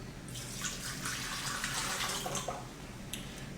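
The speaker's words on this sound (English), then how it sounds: "so I'm going to put the water in" Water pours steadily into a blender jar in the kitchen for a green smoothie, a continuous close splashing stream that tapers off near the end with a few drips.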